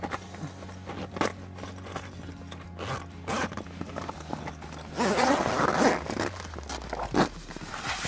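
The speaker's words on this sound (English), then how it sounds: "And zip that all the way." A camper tent's zipper is drawn closed in several quick tearing pulls, close and moderately loud, mixed with fabric rustling and handling noise.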